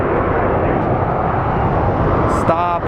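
Airplane taking off at Phoenix Sky Harbor International Airport, a loud sustained jet engine roar filling the air with broad rumbling noise, with a brief voice near the end.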